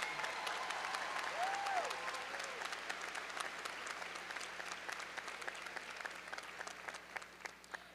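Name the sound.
applause at a commencement ceremony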